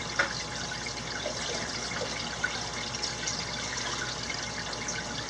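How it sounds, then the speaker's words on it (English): RO water runs steadily into a small bucket during a shrimp tank water change, a constant trickling hiss close by with a couple of faint clicks and no speech. "I'm just filling up that little bucket with the RO water."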